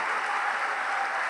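A church congregation in Rio de Janeiro applauds during a worship service, a dense, even wash of many hands clapping that holds steady and fairly loud throughout, without any voices rising above it.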